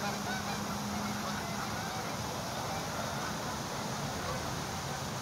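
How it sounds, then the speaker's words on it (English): Migratory geese honking as they drop in from altitude outdoors, a steady dense wash of calls blending with wind-like noise throughout. "These are migratory birds. That's why they're coming from that altitude."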